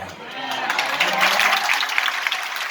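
Loud applause from a church congregation at a Hindi/Urdu sermon, a dense steady wash of clapping lasting a few seconds with a faint murmur of voices underneath.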